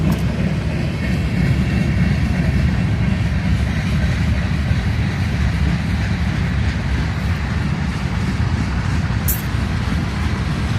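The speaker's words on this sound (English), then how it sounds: "Pretty close to the train now." A loud, continuous rumble of a train rolling past close by, steady and heavy throughout, with no talking.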